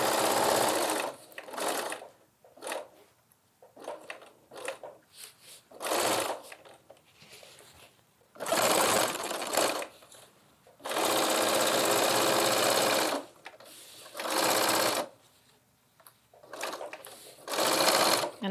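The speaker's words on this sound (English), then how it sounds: "move my needle over and stitch that seam allowance down underneath" A sewing machine edge stitches the seam allowance on a lined tote bag, running in loud bursts of rapid stitching separated by short pauses, close up.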